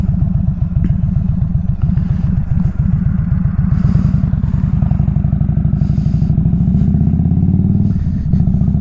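A motorcycle ridden on a cold-weather outing in Virginia, its engine thrumming loudly and steadily close by, with a continuous throbbing rumble that rises in pitch near the end as it accelerates.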